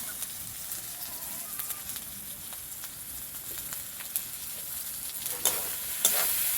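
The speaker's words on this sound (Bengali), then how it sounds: "ভালো করে কষিয়ে নেব।" Soybean chunks and potato cooking down in oil with turmeric and salt give a low, even frying hiss, dotted with light scrapes and taps from a stirring spoon, fairly soft and close.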